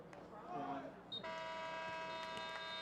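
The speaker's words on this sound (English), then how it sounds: "that buzzer will mark the end of the first half" An electronic buzzer sounds at a women's college soccer match to end the first half, a steady sustained tone starting partway through and holding to the end, under a commentator's talk and faint crowd noise.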